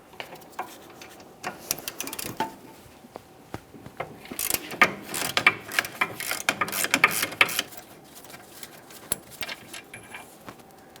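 A ratchet loosens the lower mounting bolt of a rear brake caliper on a 2009-2019 Ford Flex, with bursts of quick clicking pawl strokes, close and distinct, separated by brief pauses and metallic handling noises.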